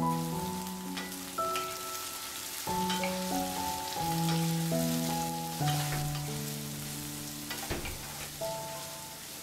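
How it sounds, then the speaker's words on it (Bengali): Carrots fry in a spoonful of refined oil for chowmein, giving a steady soft sizzle that runs under louder background music throughout. "টেবিল স্পুন রিফাইন অয়েল দিয়ে প্রথমে গাজরটা ভেজে নেব"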